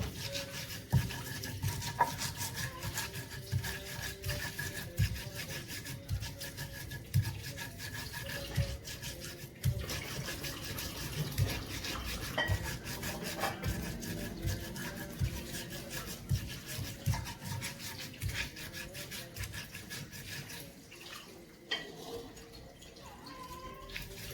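Spices being ground fine by hand for Padang-style fried chicken with coconut-pulp serundeng, a steady rasping, rubbing scrape repeating in quick strokes at close range throughout, with faint clicks and no talk.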